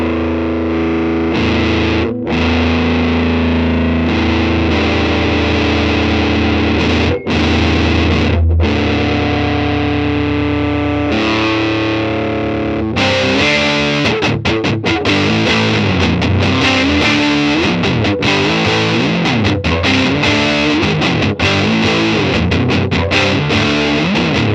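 Electric guitar through a RAT distortion pedal at high gain, fuzzy and saturated: sustained chords first, then a busier stretch of rapid, choppy riffing, loud and continuous for about 25 seconds with no talk.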